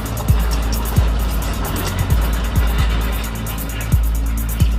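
Two ripper shanks on a bulldozer drag and scrape through rocky earth, a heavy low engine drone under repeated sharp grinding bursts that recur roughly every second, loud and close.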